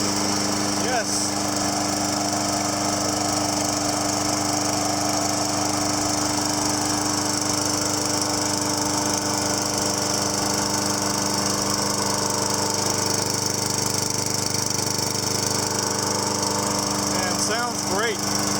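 A Sears Craftsman lawn mower with a Kohler Courage engine runs steadily after its first start, a continuous, even, loud engine drone with no talk, holding smooth throughout.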